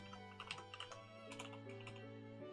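Fast, light typing on a computer keyboard, a quick string of soft key clicks close by and fairly quiet, with steady background hum and no talking.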